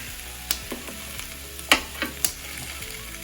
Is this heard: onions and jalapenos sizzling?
yes